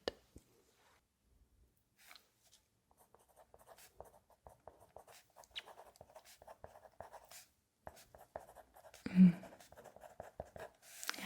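Pen writing on paper, close and quiet, in short scratchy strokes with pauses between bursts and a soft tap near the end.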